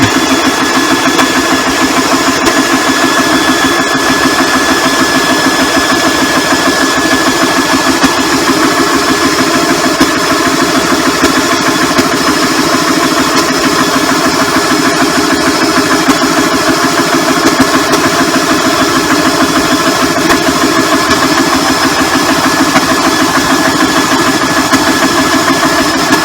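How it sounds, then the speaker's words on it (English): An air compressor runs steadily, giving a loud, continuous mechanical drone that holds constant for the whole stretch with no pauses or voices. "The air gauge on the compressor is going up very,"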